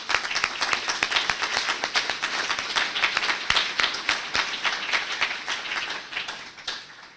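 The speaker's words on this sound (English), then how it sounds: "please join me in a nice round of applause for those folks" An audience at a Lake Bluff Park District candidates event claps in a loud, steady round of applause with many overlapping sharp claps, fading slightly toward the end.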